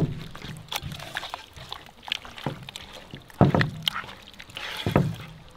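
Mutton is mixed by hand with ground masala and yogurt for a Kongunadu-style biryani. Soft wet squelches and sloshing come in irregular bursts, close and fairly quiet, with no talking.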